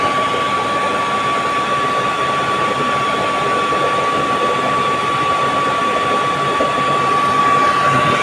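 The blower on a horizontal-chamber burner with a regulated oil supply roars in a loud, steady, unbroken rush that carries a constant whine, close to the listener, with no talk.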